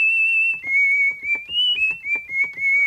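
A whistle patch on a Behringer Neutron synthesizer plays a thin, pure, high tone that steps between a few pitches in a short melodic phrase, soft breathy pulses under each note, solo with no voices.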